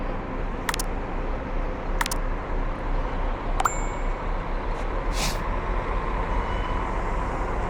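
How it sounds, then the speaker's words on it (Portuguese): A bus pulls in at Goiânia's intercity bus station: a series of sharp metallic dings and clangs ring out over steady station rumble, followed by a short hiss of air brakes. "Chegando ali o carro da Expresso São Luís de Cuiabá para Goiânia."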